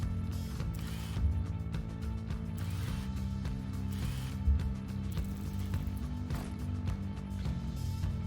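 Screws come out during repair work in Mech Mechanic Simulator with a steady mechanical ratcheting whir, looping gear-like clicks and a couple of soft thumps, continuous and fairly loud.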